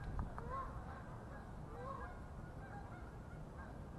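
Geese honking on a farm, a few short calls rising now and then at moderate distance over steady low background rumble, with no one talking.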